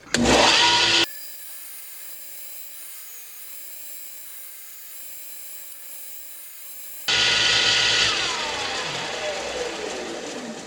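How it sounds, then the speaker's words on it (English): A belt sander grinds across a wooden guitar pick tray with inlay, a loud rough burst at the start, then a long quiet stretch with a faint steady hum before the harsh sanding returns and slowly eases off. "I'm going to use the belt sander here to even this whole thing out and make it look pretty good"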